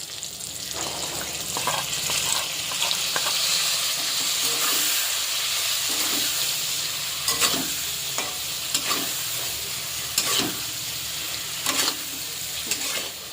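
Ground poppy seed paste stirred into pointed gourd frying in a pan, a steady sizzle with repeated scraping strokes of the spatula at a fairly regular rhythm, close and clear with no talking.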